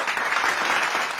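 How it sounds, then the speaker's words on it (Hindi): Dense applause fills the moment at a company event celebrating its eleventh year, loud and close, a steady wash of many hands clapping alone with no talk over it. "बार जोरदार तालियां होनी चाहिए।"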